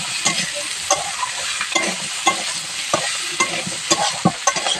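Carrots and potatoes frying lightly in oil in a pan, with repeated sharp stirring scrapes at a steady rhythm over a continuous close sizzle.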